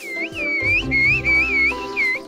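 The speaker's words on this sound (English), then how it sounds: "some people use whistled languages to communicate from afar" A whistled language: a high, clear whistle gliding up and down in wavering, speech-like phrases, several modulated bursts in a row, close and fairly loud.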